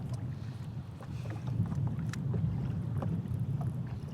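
Strong wind buffets the microphone out on open water during kayak fishing for smallmouth bass in fall, a steady low roar with no breaks, loud and close.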